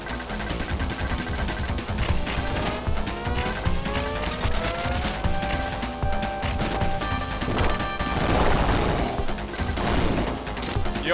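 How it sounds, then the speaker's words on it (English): Explosions from bombs in a boss fight in Contra Hard Corps pound continuously amid dense game music and effects, loud throughout with a heavier burst near the end. "this is the one I want to use all my bombs for because this fight sucks"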